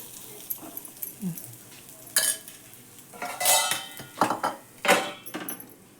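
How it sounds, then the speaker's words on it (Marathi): Rava appe are turned in a pan with a utensil, giving several separate metallic scrapes and clinks at moderate volume with quiet gaps between them. "भाजू देते ह्या पण चांगले हे आप्पे."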